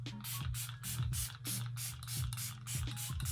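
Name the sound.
setting spray being sprayed on face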